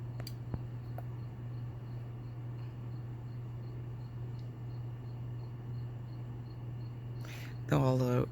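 Crickets kept as live food in a mossarium terrarium give a few faint chirps and clicks over a steady hum, and a voice starts talking near the end.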